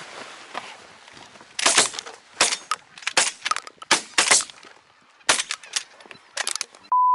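A rapid series of loud, sharp shotgun blasts, about ten in irregular bursts during a goose hunt, ending with a brief electronic beep.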